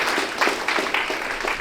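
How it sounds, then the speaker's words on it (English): An audience at a boxing and combat sports awards ceremony applauds for a man being honored, a steady, fairly loud wash of clapping with a few sharper claps standing out. "round of applause for Mr. Keith Reed"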